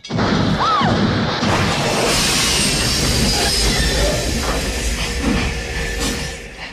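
A custom-built, Jules Verne-like time-travel train from Back to the Future takes off from a railroad crossing, with a loud continuous roar of wheels and rail noise, a brief metallic squeal and a sustained rumbling clatter.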